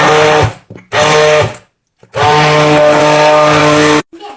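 A motorized mixer whirs in three bursts, two short ones and then a longer steady run, loud and close, with brief silences between, mixing melted gelatin into a cheese mixture.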